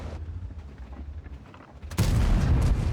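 A tank cannon blast in World of Tanks, a sudden loud boom after a stretch of engine rumble, with the roar sustained for the final second.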